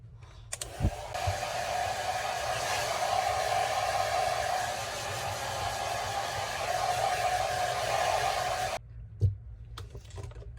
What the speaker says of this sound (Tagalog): So, mag-blower muna ka ng hair ko.